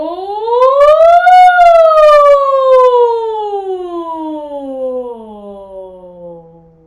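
A single voice imitates a siren during a vocal warm-up exercise, sliding up to a high pitch and then gliding slowly down in one long, loud sweep.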